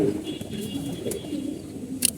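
Pigeons cooing softly, low murmuring calls close by under a dull background, with a brief sharp sound near the end.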